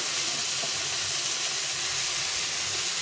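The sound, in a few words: tomato frying in a pan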